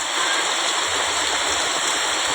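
Water rushes and gushes steadily out of a clogged drain full of garbage, a loud continuous churning flow with no pauses.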